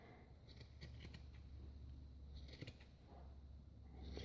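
Scissors snipping quietly at a large yarn pom pom, with soft, irregular close-up clicks and rustles of fluff.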